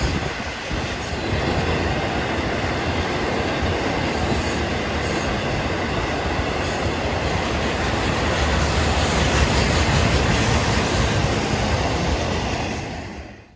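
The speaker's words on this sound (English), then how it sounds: "As the train continues east towards Two Harbors, it'll eventually have to battle a pretty steep grade, causing these Dash 8s to have to rip wide open" A CN iron ore train led by Dash 8 locomotives climbs a steep grade toward Two Harbors, its engines at full throttle under a constant, loud roar of wheels and rolling cars, with faint squeal and clatter.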